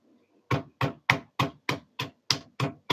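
Pestle pounding lemongrass for nasi goreng in a home kitchen: nine sharp, evenly spaced thuds in quick rhythm, close and loud, with no talking.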